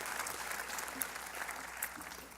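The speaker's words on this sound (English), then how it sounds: "Give yourself a round of applause." Steady applause from a large audience, moderately distant and even, with a few sharper individual claps standing out.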